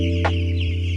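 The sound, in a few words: chickens clucking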